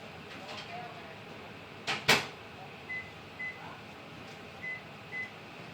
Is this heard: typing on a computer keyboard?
no